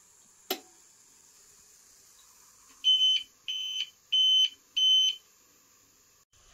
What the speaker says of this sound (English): I cut power to the UPS, it beeps